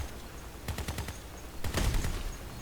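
Machine gun fire from a vehicle weapon in the Crossout combat game, two sharp rapid bursts of shots roughly a second apart, loud and close, with no talk.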